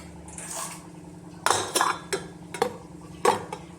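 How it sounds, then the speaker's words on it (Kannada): Metal containers clank and clatter into a pressure cooker with a little water in its base, several sharp knocks spaced over a few seconds against a quiet kitchen background. "ಇವಾಗ ಕುಕ್ಕರ್ನಲ್ಲಿಟ್ಟು ಎರಡೂ ಕುಕ್ಕರ್ ತಳಕ್ಕೆ ಸ್ವಲ್ಪ ನೀರು ಹಾಕಿದ್ದೀನಿ. ಈ ಥರ ಇಡ್ತೀನಿ."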